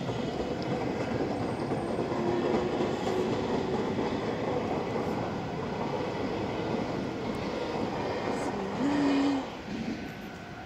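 Train passing nearby in Japan, a broad continuous rumble and rush that stays loud for the whole stretch, heard outdoors in the cold with a faint tone rising briefly near the end.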